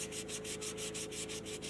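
Sandpaper rubbed back and forth over a curved tri tail tuner to test the grit, a steady, soft, rasping scrape with fast, even strokes, close by and fairly quiet, with no talking.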